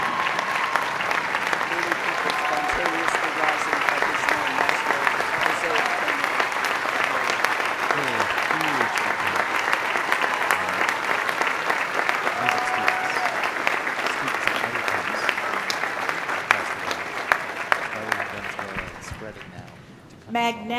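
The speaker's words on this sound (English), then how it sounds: "We applaud Maestro Jose Antonio Abreu." A Harvard commencement crowd applauds an honorary degree recipient, Maestro José Antonio Abreu; a broad, continuous wash of clapping from a large audience that holds steady, then thins out near the end.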